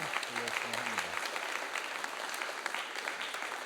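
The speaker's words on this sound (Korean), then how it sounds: "또 하나님께 영광의 박수" A church congregation applauds at the close of a Sunday revival service, a sustained wash of many hands clapping, moderately quiet and even, with a brief voice or tone heard near the start.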